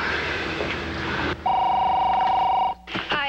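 A telephone call is placed: a short steady tone sounds after a brief rustle, followed by quick clicks and a ring-like burst, all close and clear with no voices.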